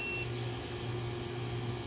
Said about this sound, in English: This stupid thing does not shut up. All it does is beep and turn off prematurely.